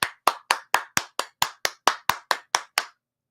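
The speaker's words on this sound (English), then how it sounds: "I hope everybody stood up and clapped with me" Hands clap in a steady, even rhythm, about twelve sharp, close claps spaced roughly a quarter second apart, then stop into silence.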